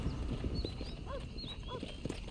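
Horses clip-clopping in the video game Red Dead Redemption on PS5, a faint, uneven patter of hooves beneath ambient game sound with a few higher chirping tones.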